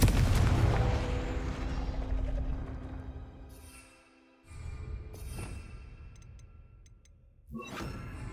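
Confringo blasting spells in the video game Hogwarts Legacy go off as heavy booming explosions: a big opening blast that rumbles and fades, then two sharper bursts a few seconds apart.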